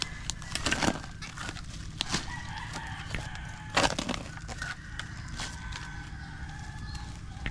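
A rooster crows and hens cluck nearby outdoors, with a few sharp knocking sounds in between and no one talking.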